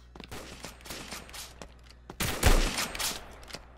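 Gunfire in the first-person shooter game Pixel Strike 3D: scattered light shots, then a loud close burst of rapid fire with a deep boom, no talk.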